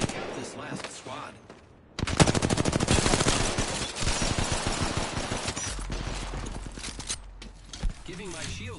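Rapid gunfire in a battle royale video game, dense bursts of automatic shots crackling loudly over game sounds, with talk in the background throughout.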